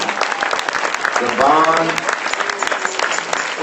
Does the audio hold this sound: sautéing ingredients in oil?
no